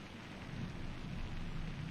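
Rain sound effect in the airport-management game SimAirport: a faint, continuous wash of rainfall with a low rumbling undertone, steady and unbroken, no voices.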